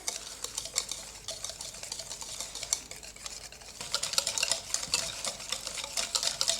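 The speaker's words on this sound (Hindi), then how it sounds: "अब चीज़ों को अच्छी तरह से मिक्स कर लेते हैं।" A spoon stirs creamy fruit chaat with chaat masala and spices in a bowl, giving steady close scraping and wet mixing that grows slightly busier toward the end, with no talk.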